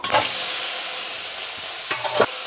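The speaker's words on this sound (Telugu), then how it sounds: "ఇప్పుడు శుభ్రంగా కడిగి ఉంచుకున్న చికెన్ వేసేద్దాము" Washed chicken hits a hot pan with a loud, near sizzle that settles into a steady crackling fry, with brief scraping stirs near the end.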